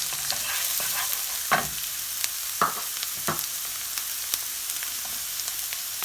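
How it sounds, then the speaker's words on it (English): Finely chopped onions fry with ginger, garlic and green chili for cabbage manchurian gravy, a steady close sizzle broken by a few sharp clinks and scrapes of the spatula. "To this I'll be adding in half finely chopped onions"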